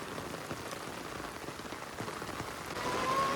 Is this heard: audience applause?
no